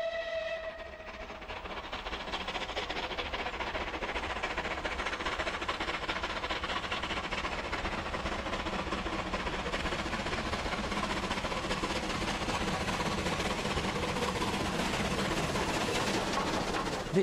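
A rebuilt West Country Pacific British steam locomotive sounds a short whistle, then runs with a loud, steady rushing roar and rumble that holds to the end.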